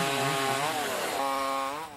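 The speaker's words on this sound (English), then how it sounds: "You won't hear the sound of chainsaws roaring on just any gardening show" A chainsaw cuts through tree limbs with a loud, close, sustained whine that rises and dips in pitch as it bites into the wood.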